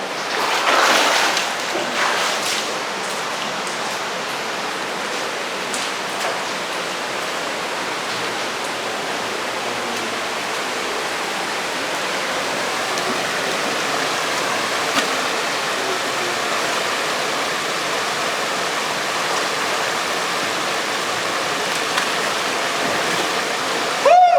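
A cold river in Zakarpattia rushes steadily, a dense, even wash of flowing water that stays loud and close throughout, with no voices.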